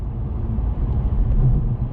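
A Mercedes A160 turbo diesel car accelerates with a low, even engine rumble heard from inside the cabin, steady and moderately loud, with no voices.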